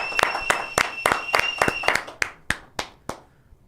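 Brief round of hand clapping, with a few sharp claps quickening into a cluster and then thinning to scattered single claps that fade out, fairly quiet and close.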